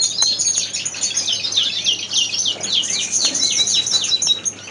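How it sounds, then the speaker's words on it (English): Two young starlings chirp and twitter in quick, overlapping high-pitched calls, nearby and fairly loud, in busy bursts over a quiet background. "Up here is two of the young starlings that I bred this year."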